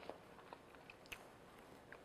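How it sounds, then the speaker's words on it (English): Someone chews walnut and date bread with a crisp crust softened overnight and a moist crumb, giving faint, quiet crunches and bites at irregular intervals with no talking. "You got the crunch of the walnuts, and then you've got the sweet dates"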